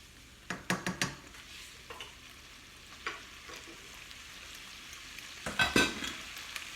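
Cooked shrimp fettuccine is tossed in a pan with a quiet background sizzle, broken by a few sharp clinks and scrapes of a spoon against the pan, loudest near the start and end; no voices.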